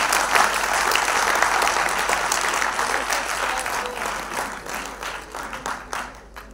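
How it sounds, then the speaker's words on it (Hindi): A crowd applauds the NSS at a national integration camp event, with a loud, dense round of clapping that slowly thins and fades toward the end. "देखो ये NSS clap डिजर्व करता है, तो मैं से मरी मरी तालियां बजाकर शुरू करूंगा।"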